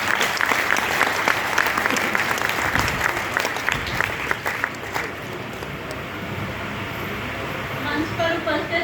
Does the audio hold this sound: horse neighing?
no